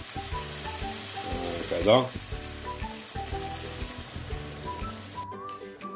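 Paella with red mullet sizzles and crackles steadily in a hot pan as liquid is added to deglaze, with a brief louder burst of hissing, and a voice speaks briefly over the frying.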